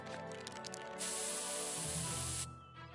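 Pepper spray fired in one continuous loud hiss lasting about a second and a half, then cutting off sharply into quiet.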